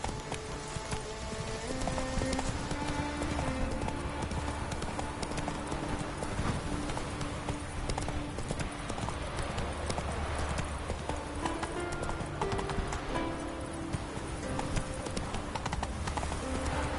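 Roach the horse walks in The Witcher 3: Wild Hunt with a steady clip-clop of hooves, carried over a continuous, dense bed of game music and ambience.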